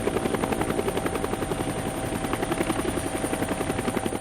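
Helicopter flying near the Cambodian border in April 1969, its rotor chopping in a loud, steady rapid pulse with a continuous engine whine, close and unbroken throughout.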